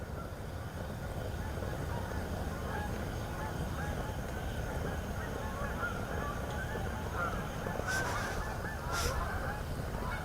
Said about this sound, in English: That's how the geese sound.